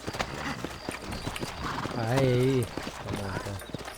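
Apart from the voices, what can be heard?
horses walking, hooves clip-clopping, in video game Red Dead Redemption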